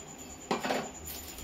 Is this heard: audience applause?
no